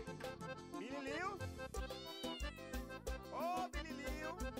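A cat meows within a reggae song. Drawn-out, rising and falling meow-like tones sound over a steady rhythmic band, and sung vocals run alongside.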